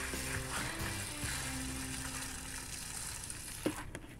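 Wet gold-panning concentrate poured from a bucket into a small pan in the desert, a continuous close rushing, sizzling pour of water and sediment with a few clinks and a brief knock near the end.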